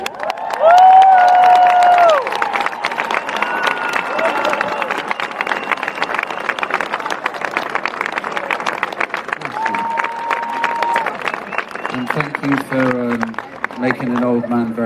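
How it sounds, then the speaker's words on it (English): A large concert crowd at Heartland claps and cheers, with a loud whoop at the start and sustained, dense applause and shouting that carries on, a voice speaking over it near the end. "Round of applause for Emma and a friend."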